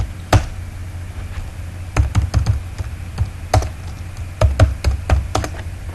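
Computer keyboard typed on in bursts of sharp, irregular key clicks and taps at a Linux bash terminal, close and fairly loud over quiet room noise, with no talking.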